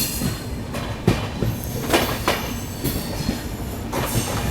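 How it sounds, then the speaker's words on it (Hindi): A freight train rolls past on a parallel track near a junction, its wagons rumbling steadily with rhythmic clacks of wheels over rail joints and occasional sharp squeals. "अब बीच में ये मालगाड़ी आ गई यार"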